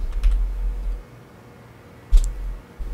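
Console command typed on a computer keyboard, a quick run of close key clicks, a pause, then another short burst of keystrokes.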